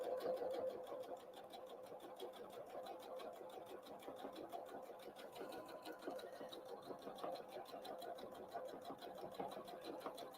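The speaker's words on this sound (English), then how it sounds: "I'm just stitching all the way to the end, just leaving about kind of a 1/4 inch from the end" A sewing machine stitches fabric Christmas tree napkins, a steady fast mechanical whir and clatter running unbroken through the whole stretch at close range.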